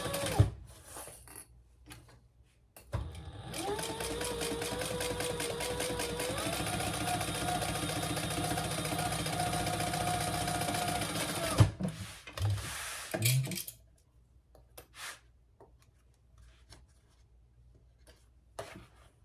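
A sewing machine top-stitches a crossbody bag in one long steady run of several seconds, with a whirring motor under fast rhythmic needle clatter and quiet handling before and after.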